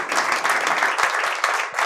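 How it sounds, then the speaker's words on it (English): A room of people breaks into dense applause for a forum host, steady and fairly close, with scattered sharper claps standing out through the brief burst. "let's give David a round of applause"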